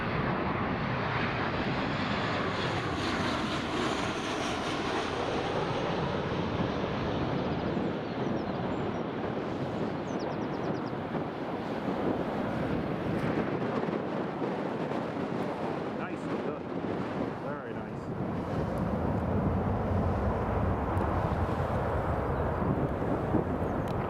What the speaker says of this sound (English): Right, here comes the next Jet 2.